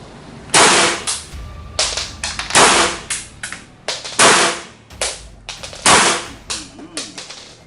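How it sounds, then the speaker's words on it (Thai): A Kuzey Glock 19 blank pistol fires in rapid bursts, loud sharp cracks in quick clusters of several shots each, close by, with short pauses between volleys. "ยิงรัวเลยนะ"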